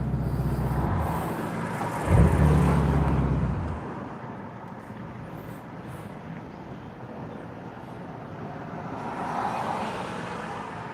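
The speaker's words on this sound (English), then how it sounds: "that is the reality of this exhaust" A Ferrari Portofino's twin-turbo V8 exhaust while driving: a brief deep, loud rumble surges early, then fades into steady road and wind noise inside the car.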